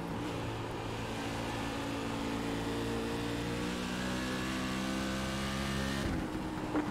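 A Silver Crown race car engine drones steadily at Bristol Motor Speedway in the iRacing sim, holding a continuous, even roar throughout with a brief shift near the end.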